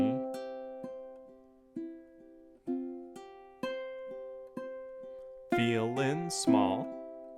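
Plucked ukulele picking out a melody, single notes ringing out at a steady slow pace, then a brief passage of faster strummed chords near the end, played alone without talk.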